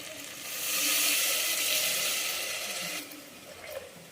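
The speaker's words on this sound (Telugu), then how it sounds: "బాగా ఫ్రై అయ్యాక ఇప్పుడు వాటర్ పోస్తాం" Water poured into mutton curry in a hot pan, a loud continuous rushing pour with hissing that swells, holds for a few seconds and then tapers off.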